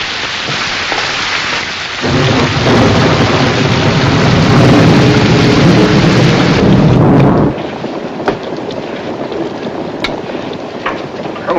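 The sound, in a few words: thunderstorm with thunder and rain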